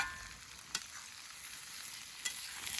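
Onions, green chilli and garlic sautéing in a pan, a soft even sizzle with two brief spoon taps, quiet and close, no talking.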